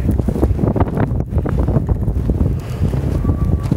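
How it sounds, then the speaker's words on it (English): Strong wind gusts in Antarctica buffeting the microphone, a loud, rough roar with surging pulses, close and unbroken. "That's a taste of the wind here, and this isn't even bad weather yet."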